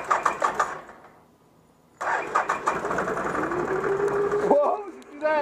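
A 2016 Can-Am 650 XMR engine cranks and fires up, then settles into a steady running drone after a brief quiet gap, with loud mechanical revving near the end; a voice talks over the start.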